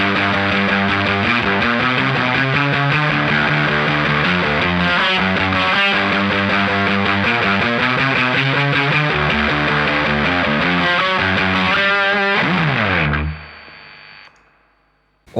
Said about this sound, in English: using the fuzz for an all-out fuzz tone